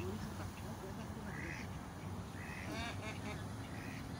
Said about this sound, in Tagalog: Ito yung mga bibe.